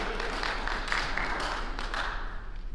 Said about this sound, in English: That was your husband that got that great round of applause going